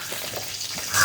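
Hot oil sizzles in a pan as cinnamon and vegetables go in for vegetable noodles, a steady faint hiss with soft crackles, brief and unbroken.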